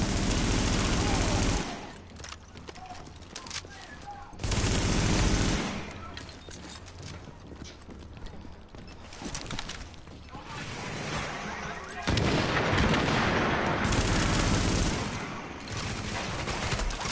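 Loud bursts of automatic gunfire and explosive blasts from The Division video game come in long, dense stretches separated by brief lulls, with a player's voice mixed in.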